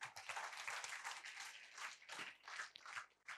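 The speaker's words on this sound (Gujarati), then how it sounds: "આપણે બેનને તાળીથી વધાવી લઈએ" Schoolchildren in a classroom clap to welcome a girl, a faint, quick scattering of many hands in uneven bursts, with no talking over it.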